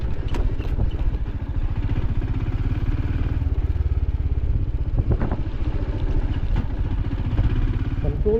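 A Royal Enfield Scram 440 motorcycle engine runs steadily while riding, a continuous close mid-pitched drone with occasional clatter, alone throughout.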